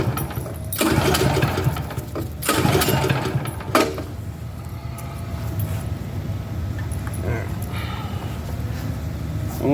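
A Champion dual fuel propane generator is pulled into life by its cord and settles into a steady, close mechanical running drone with uneven bursts early on, while a voice speaks over it.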